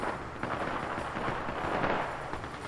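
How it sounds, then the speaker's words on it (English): A muffled grenade blast rolls through an Xbox shooter game, a dense, rumbling burst of noise lasting a couple of seconds at moderate level, without talk over it. "Was that your grenade?"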